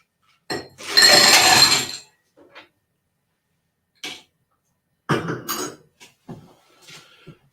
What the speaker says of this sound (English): Now, stir and stir and stir.